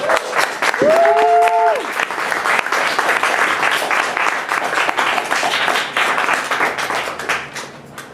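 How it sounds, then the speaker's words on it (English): A live audience at a music event gives loud, energetic applause that lasts several seconds, close and dense. A sharp whistle rings out near the start, and the clapping tapers off at the end. "Can we have another round of applause?"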